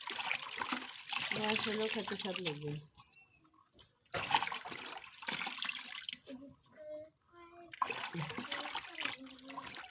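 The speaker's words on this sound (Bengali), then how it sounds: "সেই জন্য মা লাল শাকগুলো ধুয়ে নিচ্ছে" Tap water runs and splashes as red amaranth greens are rinsed by hand, a steady trickle broken by short pauses, with a person talking over it.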